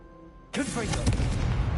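A Confringo blasting spell in Hogwarts Legacy erupts after a brief quiet lead-in: one loud, sudden burst, then a sustained crackling roar that keeps rumbling close and heavy to the end.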